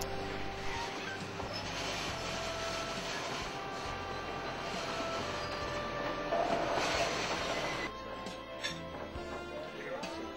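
The Shasta Sunset Dinner Train rolls steadily along the rails with continuous rumbling and clattering, a constant mechanical roar close by that eases slightly near the end.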